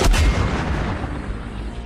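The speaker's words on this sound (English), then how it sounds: "you will just hear the onslaught of orc artillery fire from their ship" Orc artillery fires from a ship in a fantasy battle, one loud heavy boom at the start that rolls into a long rumbling decay, with no voices over it.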